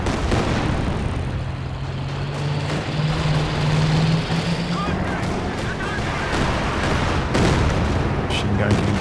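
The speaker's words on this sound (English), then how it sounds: "Was that a creeping barrage?" A creeping artillery barrage in the real-time strategy game Company of Heroes 2, with dense, continuous rumbling explosions and gunfire under a steady low drone, a heavier burst near the end.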